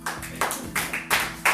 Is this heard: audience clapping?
yes